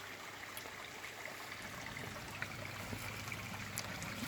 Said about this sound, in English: This little waterfall is so relaxing on a summer day.